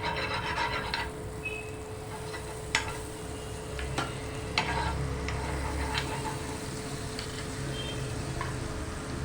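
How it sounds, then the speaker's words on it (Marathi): Pav bread toasts in butter on a flat griddle for Mumbai street-style pav bhaji, giving a steady soft sizzle with occasional sharp taps and scrapes of a spatula against the pan. "आता आपण तव्याला बटर लावून घेऊया."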